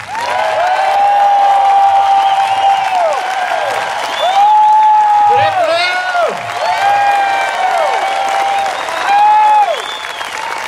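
Political rally crowd for a candidate applauding, cheering and whooping loudly without pause, with shouted calls rising over the clapping and a voice breaking in briefly.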